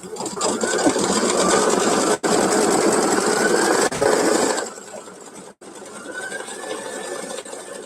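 An embroidery machine stitches out a design in a steady, loud mechanical whir, with a brief break near the middle and again later, then continues at a slightly lower pitch.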